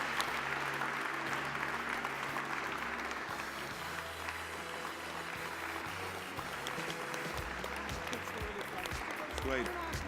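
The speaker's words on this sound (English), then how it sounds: "another round of applause for all of the participants" An audience at a startup pitch event applauds the participants, a steady wash of clapping throughout, moderately distant and fairly soft.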